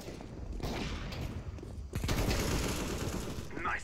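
Gunfire in CS:GO rattles in close, rapid bursts, dropping briefly before a louder, denser stretch of shots, with voices faintly beneath the shooting.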